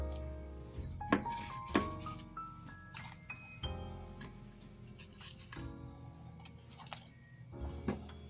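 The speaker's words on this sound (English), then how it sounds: "now all you want to do is put your apples into the lemon water." Wet squishing and dripping as apple slices are dropped into lemon water, with a few sharp splashes and soft patters over several seconds.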